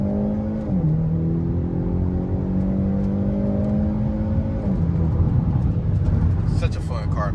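A turbocharged Hyundai Elantra N accelerates hard, its engine note climbing through one gear, dropping at a shift, then rising again, loud and close, while a voice talks underneath.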